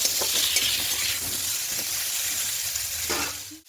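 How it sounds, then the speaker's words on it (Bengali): Cubed potatoes and cauliflower fry with turmeric and salt in a pan, sizzling in a bright, steady hiss while a utensil scrapes and stirs in irregular strokes, then the sound tapers off near the end. "হালকা করে আলুটাও ভাজা হয়ে গেছে।"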